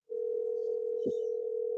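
A phone call's ringing tone, a steady electronic tone held for nearly two seconds with a brief low bump partway through, heard alone and fairly clear.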